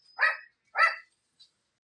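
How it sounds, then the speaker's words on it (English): Two loud, close dog barks about half a second apart, followed by a faint short yip, as people arrive indoors; no talking. "Sorry, they bark when people come in."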